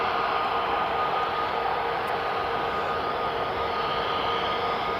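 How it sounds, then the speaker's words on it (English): An EasyJet Airbus A320 coming in to land at Edinburgh Airport makes a steady, broad jet roar, loud and constant throughout with no voices. "Here's the EasyJet just coming into land."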